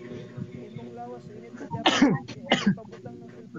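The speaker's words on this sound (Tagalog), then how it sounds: "Ubo na lang." A person coughs twice in quick succession, close and fairly loud, after some soft murmuring and breathy sounds.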